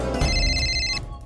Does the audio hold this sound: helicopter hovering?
no